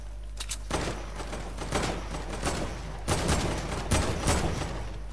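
Lever action rifle gunfire in a video game: several sharp, loud shots spaced a second or so apart over a steady background din, with no talking.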